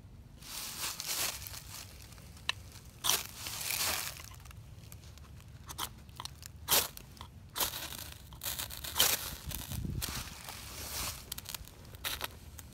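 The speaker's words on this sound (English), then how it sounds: "I can use that to scrape the back of my ferrocerium rod" The spine of a knife blade scrapes a ferrocerium rod to throw sparks for starting a fire, producing repeated harsh rasping strokes in irregular bursts, close and fairly loud, amid crinkling and rustling of shavings.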